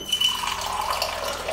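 Water pours into a glass for a salt water flush, a short bright trickling fill with a faint ringing tone, heard alone and close.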